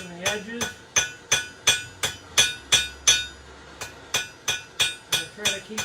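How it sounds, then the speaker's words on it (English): Hammer blows on metal shaping the crease of a leaf-tip towel holder, struck from the sides and edges in a steady, ringing series of about fifteen close strikes with a brief pause midway. "So I'm hammering at it from the sides and the edges."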